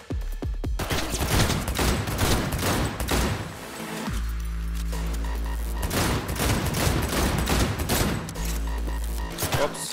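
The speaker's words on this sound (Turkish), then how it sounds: "Duvar arkasına adama sıkıyorsun." Rapid automatic gunfire rattles through a Cyberpunk 2077 firefight in loud sustained bursts, with a heavy booming low rumble underneath and only brief pauses between volleys.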